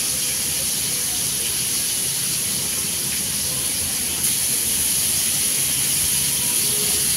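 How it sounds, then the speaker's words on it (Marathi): Pomfret fish set into hot oil in a pan for a Konkani-style fry, giving a steady, continuous sizzle and hiss that holds evenly throughout and grows slightly louder partway through. "पॉपलेट ठेवताना जरा जपून ठेवा, कारण की तेल उडण्याची शक्यता जास्त असते।"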